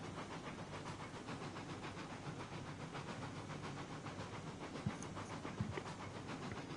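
A steam locomotive in the Railroads Online video game, running on the Mesa Plains track, hisses and chuffs in a steady, even rhythm, moderately loud and continuous, with a couple of brief clanks near the end.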